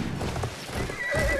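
A horse gallops in Battlefield 1 amid battle noise, with hoofbeats and a loud whinny rising over the din.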